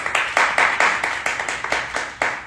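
A small group at a panel event applauds a panelist with a few seconds of sharp, evenly paced rhythmic claps, close and clear, with no voices.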